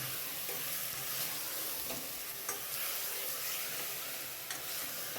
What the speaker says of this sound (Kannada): ಅರ್ಧ ಕೆ ಜಿ ಮಟನ್ ಇದೆ ಇದು ಈಗ ಅದು ಹಾಕ್ಕೊಂಡು ಚೆನ್ನಾಗಿ ಫ್ರೈ ಮಾಡ್ಕೊಳ್ಳೋಣ